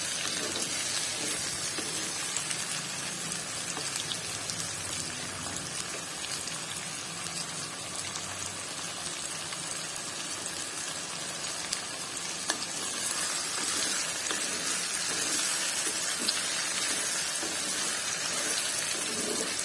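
Mango pieces sautéing in sesame oil for a mango pickle, giving a steady broadband sizzle with soft stirring scrapes throughout, close and continuous with no talking.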